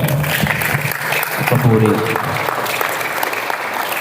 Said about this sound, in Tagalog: Bigyan po natin ng malakas na palakpak ang Panginoon.